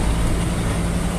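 The diesel engine of an Isuzu 10PD1 ten-wheeler truck with a newly rebuilt injection pump runs loud and steady. It is a dense, continuous low rumble and roar that stays close throughout.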